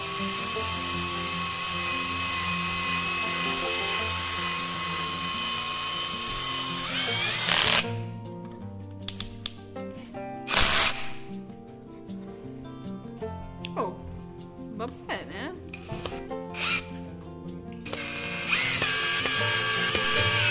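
A Cecotec Cecoraptor cordless hammer drill runs loud and steady, then stops and restarts in several short bursts before running continuously again.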